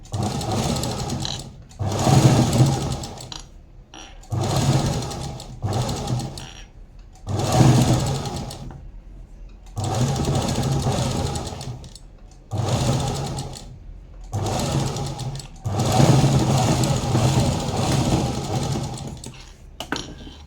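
A sewing machine stitching fabric, loud and close, runs in repeated bursts of steady mechanical whirring about two seconds long, separated by short pauses, with no talking over it.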